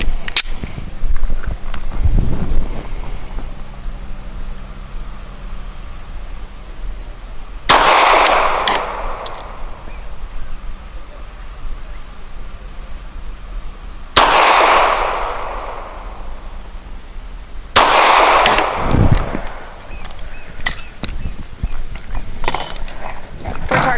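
A Springfield XDe 9mm pistol fires American Eagle Suppressor 124 grain subsonic rounds in three loud, well-spaced shots, each a sharp crack followed by a ringing decay, with a fainter pop early on.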